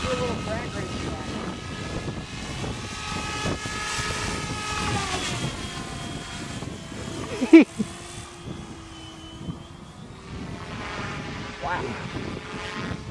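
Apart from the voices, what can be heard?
MSH Protos RC helicopter flying, rotor head speed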